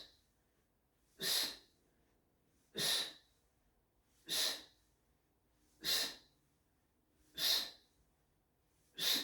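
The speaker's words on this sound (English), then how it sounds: "Exhaling upwards." Five slow, breathy exhalations come at even intervals of about one and a half seconds during a balance exercise class. Each is a soft, close airy puff with a pause before the next, and no one talks.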